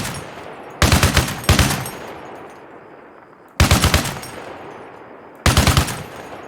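Gunfire from a rifle in the video game Arma Reforger, heard as three loud, close bursts of rapid automatic shots separated by pauses with quiet ambience between them.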